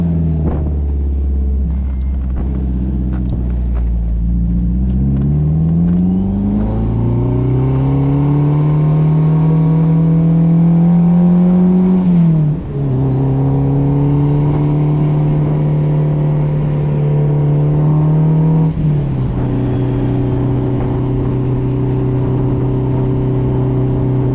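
A boosted Honda S2000 engine drives on a street, rising in pitch as it accelerates, dropping at two gear changes, then holding a steady loud drone.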